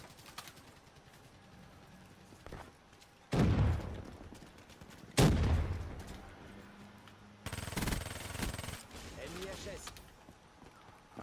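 Gunfire and explosions in Black Ops 3 multiplayer: faint background shooting, then several loud blasts and bursts of fire at intervals, with someone speaking quietly between them.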